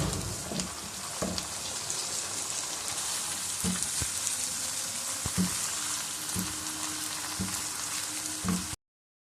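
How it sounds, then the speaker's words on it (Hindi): Boiled lentils (daal) frying in a pot for a Mughlai daal, giving a steady broadband sizzle with scattered soft knocks, moderately loud and with no voices. "चूँकि ये दाल बॉयल की हुई है तो इसलिए मैं इसको इसके अंदर फ्राई करूँगा।"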